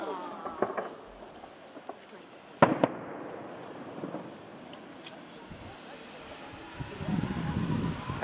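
Distant festival fireworks, including one shaped like a daikon radish, pop and crackle in scattered bursts over Aioi, Japan, with one sharper bang, over wind noise and a low background rumble.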